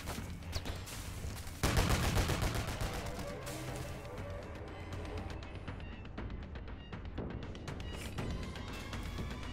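Sustained enemy gunfire in the Operation: Tango video game, dense overlapping bursts of shots that surge louder after the first couple of seconds and continue steadily throughout.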